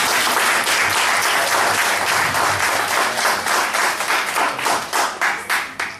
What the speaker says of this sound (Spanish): ¿Por qué no dar un voto de aplausos?